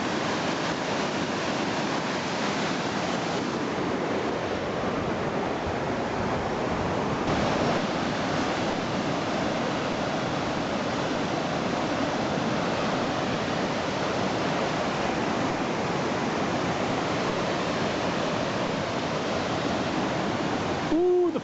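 The flooded Elbow River in Calgary rushes past in a broad, constant roar of churning water, steady and full with no pauses, and no voices.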